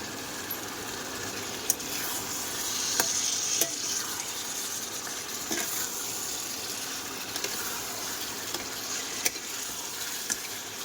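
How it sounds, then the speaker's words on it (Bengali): Goat meat sizzles steadily in a frying pan as it is stirred, a continuous close frying hiss broken by a few scraping clicks of the spoon, with no talking. "মাংসটা দিয়ে দিচ্ছি।"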